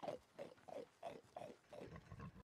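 Pigs grunt and oink in a quick repeated series of about seven short snorts, close and clear.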